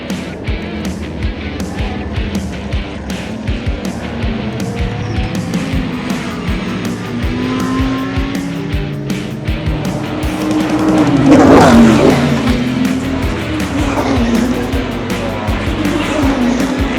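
Super GT race cars scream past at Okayama circuit, engines roaring loud and continuous with repeated pass-bys, a louder surge near the middle and faint tire squeal under the din.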